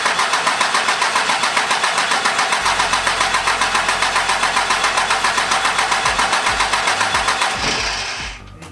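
A Cummins diesel engine cranks over steadily on its starter after the fuel pump is primed, a fast even chugging rhythm lasting about eight seconds without catching, then winding down.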